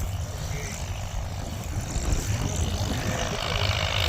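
A tractor in second gear at half throttle pulls a four-bottom plow through a field at a farm plow day, its engine a loud, steady, low drone that holds throughout.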